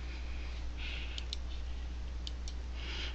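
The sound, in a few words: computer mouse clicking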